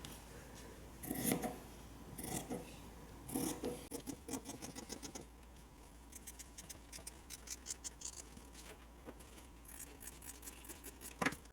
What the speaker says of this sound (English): Once you have it traced, you can go ahead and cut your circle out.